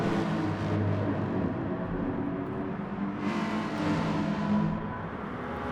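A race car engine in Gran Turismo Sport at Suzuka Circuit during a Manufacturer Series race, a steady loud drone with whirring shifts in pitch as it holds speed, continuous and alone.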